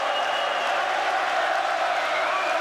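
Boxing crowd at the Steve Collins versus Chris Eubank world title rematch, 1995, roaring in a dense, continuous wash of cheering and applause that fills the arena without a break.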